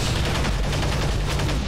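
A weapon firing in a video game makes a steady, dense stream of rapid shots, loud and continuous across the whole moment with a heavy low rumble underneath.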